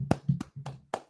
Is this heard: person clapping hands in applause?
yes